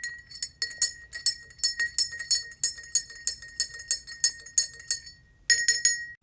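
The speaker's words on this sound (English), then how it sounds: "Add some to our tiny spoon and stir again." A tiny spoon stirs purple mica powder inside a glass jar, striking the glass in a steady run of bright, ringing clinks that pause briefly near the end and then resume, close and with no talk.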